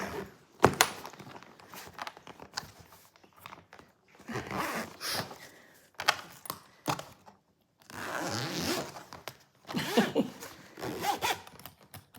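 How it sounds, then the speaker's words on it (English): Several zipper pulls closing a Level 8 Grace 20-inch carry-on suitcase, close and loud, in bursts of rasping zips separated by short pauses and light handling thumps. "So let's zip this back up."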